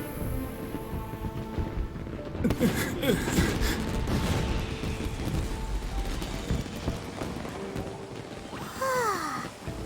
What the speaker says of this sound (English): So, Yumiya, these fireworks, what do they mean to you?